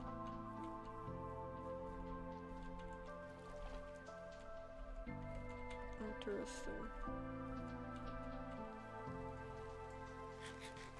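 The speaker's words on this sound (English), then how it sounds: "Oh, it's raining." Rain falls in the video game Minecraft, a soft steady patter behind game music while a person talks over it briefly.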